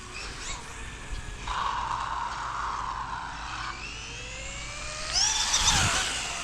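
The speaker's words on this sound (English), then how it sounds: "You can just hear that motor zinging" A small wheelie-machine motorcycle's motor zings steadily during a wheelie on a street, its whine gliding upward and swelling louder near the end.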